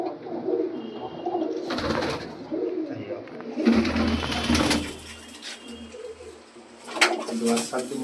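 Colored pigeons in a Kolkata loft cooing in soft, low, repeated bursts nearby, with rustling, wing and movement noises and occasional sharp sounds mixed in.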